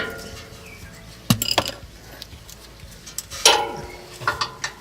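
A 17 mm spanner clinks against a bolt on the left-side Panhard bar bracket of a 1999 Toyota Prado, giving two short metallic bursts of clanks and taps close by, with quieter rattles in between.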